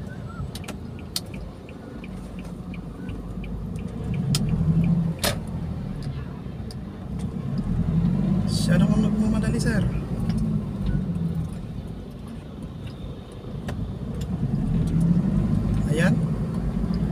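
Car traffic around a city road circle in Baguio, engines rumbling and swelling in waves with occasional clicks and brief sharp sounds, heard from inside a vehicle while people talk throughout.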